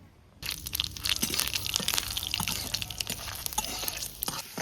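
Whole garam masala, dried red chillies and black cumin hit hot oil in a pan, bursting into a loud, crackling sizzle with sharp pops that carries on steadily from the moment they go in.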